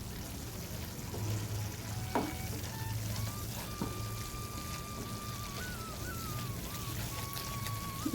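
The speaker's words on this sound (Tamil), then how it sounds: "இது நல்லா கலந்து விட்ருவோம்" Amla (gooseberry) thokku cooking in oil hisses and sputters with a steady sizzle, broken by occasional spoon scrapes as the thick paste is stirred in the pan.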